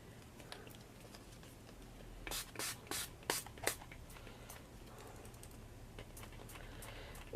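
An aerosol spray can fires a few quick hisses in a cluster while coating craft pumpkins, faint and fairly close, set against a low room hum.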